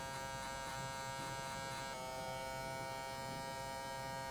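An electric hair clipper with no guard and the blade open buzzes steadily and close, a constant high electric whine whose tone shifts slightly partway through, with no talking.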